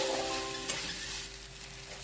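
Turmeric, red chili powder and chopped green chili roasting in a pan give a steady, close sizzle with faint stirring scrapes, continuous for about two seconds with no voices.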